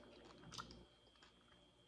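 Crispy fried parrot fish being chewed close up: a few quiet crunching bites, then a sharper crack near the end.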